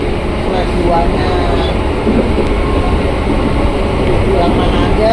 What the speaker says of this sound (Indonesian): Ada lokomotif, kereta api jarak jauh.